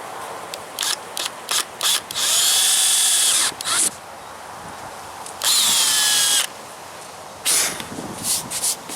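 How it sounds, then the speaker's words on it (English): A power drill whines in several bursts, two long runs of a few seconds each plus shorter clicks and starts, close by and loud, drilling holes to mount a track rack on a Jeep JK. "So next step is to drill the holes."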